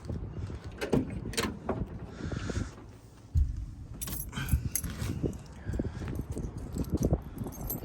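Car keys jangling and clinking near a 1972 Chevrolet Monte Carlo, irregular metallic rattles and handling knocks at close range with a brief pause in the middle.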